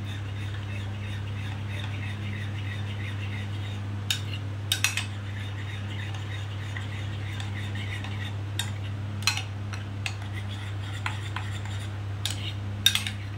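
A spoon clinks and scrapes against a bowl while hilsa fish is mixed with mustard oil and turmeric for a Bengali doi ilish, scattered sharp metallic taps over a steady low hum, fairly close and quiet.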